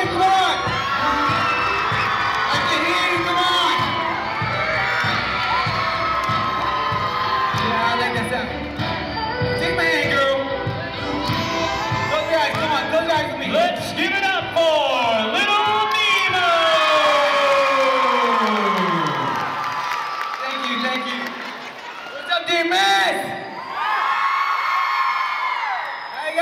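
Audience at a talent showcase screams, whoops and cheers loudly and continuously, with rising and falling shrieks and a busy crowd roar throughout, under music-like tonal sweeps.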